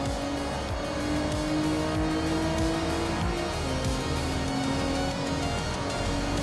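Racing cars scream past in quick succession, high-revving engines rising and falling with repeated pass-by sweeps, loud and continuous with layered motor whine throughout.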